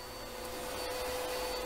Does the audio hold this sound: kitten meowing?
no